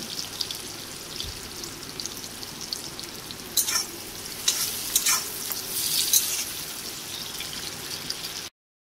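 Chopped onions frying with a little salt in a pan for a prawn and pointed gourd curry, a steady close sizzle with brief bursts of stirring scrapes partway through, no talking.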